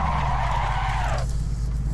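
Car tires skid and squeal loudly as the car drifts around a corner, a sustained high screech over steady engine roar that drops off sharply partway through while the motor keeps droning.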